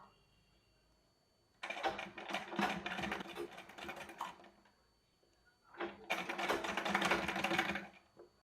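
A sewing machine stitches piping, in two separate bursts of rapid mechanical clatter, each a few seconds long, with quiet pauses between them.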